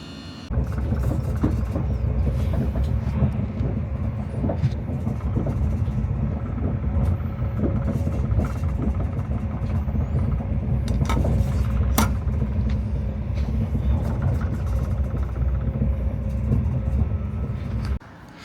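Train pulling into a station, heard as a steady, loud low-frequency rumble of wheels and motors with scattered clanks and squeals, sustained throughout before cutting off near the end.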